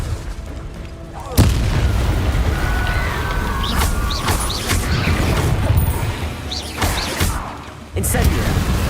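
A Confringo fire spell explodes in Hogwarts Legacy: a sharp booming blast that sets off a long, rumbling burst of crackling impact noise, followed by a second hard blast near the end, with voices heard over the action.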